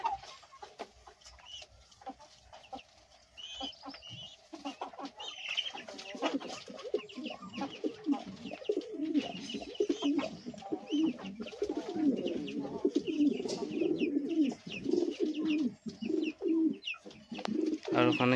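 Loton and sundori pigeons cooing close by, a steady run of soft throaty coos and clucks that build and continue throughout, with occasional rustling.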